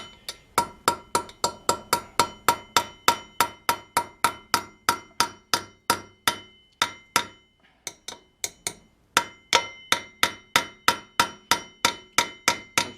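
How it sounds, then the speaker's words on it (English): Rapid metallic hammer taps on a red Loctite-fixed bolt during a Ninja motorcycle restoration, a dense run of ringing close strikes with one brief pause midway before the steady tapping resumes, no talking. "I'm sure that tapping on a bolt helps too, somewhat."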